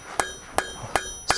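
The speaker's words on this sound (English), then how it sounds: "lightly hammer the edges" A light hammer strikes the edges of a hot kebab skewer during forging. Four sharp, ringing metallic blows land at a steady, unhurried pace, close and clear, with no talk.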